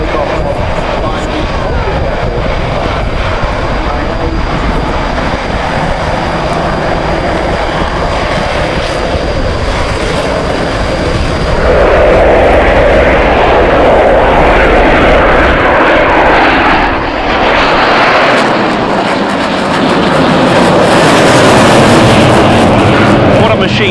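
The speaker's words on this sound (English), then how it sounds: "You're about to see the smoke from its two Klimov RD-33 turbofans as it powers up for takeoff." A Polish Air Force Mikoyan MiG-29 Fulcrum spools up its twin Klimov RD-33 turbofans for takeoff at an air show, a loud broad jet roar that swells in the second half and stays heavy and continuous throughout.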